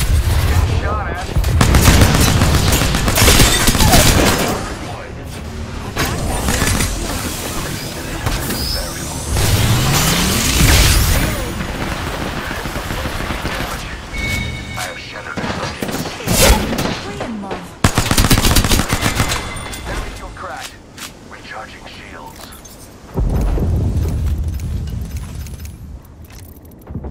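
Gunfire in the video game Apex Legends rattles in dense automatic bursts and single shots for nearly half a minute, loud and close, mixed with mechanical clatter, game effects and intermittent talking.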